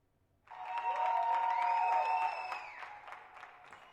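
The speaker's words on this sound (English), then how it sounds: "Every night, Spaniards gather on their balconies to applaud the nation's healthcare workers" Spaniards applaud healthcare workers from their balconies at night, a distant clapping swell that starts abruptly, holds steady, then thins out toward the end, with a faint tonal hum running through it.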